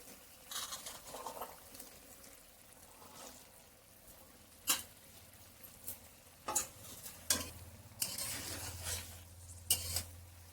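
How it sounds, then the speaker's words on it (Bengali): Water lily stems are stirred into a simmering hilsa fish gravy, a soft bubbling sizzle under intermittent scraping and clinking strokes of a spoon against the pan, close and moderately loud. "শাপলাটা দেওয়ার পরে আমি আবার সুন্দর করে এভাবে মিশিয়ে নেব।"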